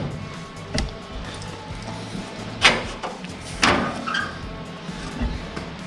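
Door on a third-generation Ram body being swapped onto a deuce-and-a-half truck is worked, giving a few separate thuds and clunks at close range with a louder latch-like knock midway.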